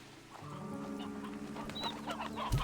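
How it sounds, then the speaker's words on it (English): Chickens cluck in the video game Slime Rancher 2, a layered mix of clucks and short calls over a steady game backdrop, rising into a loud burst at the end. "This is a lot of chickens."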